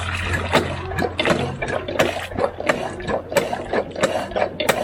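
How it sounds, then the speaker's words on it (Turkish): Water poured into a garden setup on a village farm, irregular splashing and gurgling with rattling clicks, close and fairly loud. "Evet suyumuzu döküyoruz."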